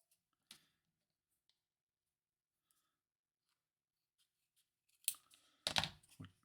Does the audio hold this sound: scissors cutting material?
yes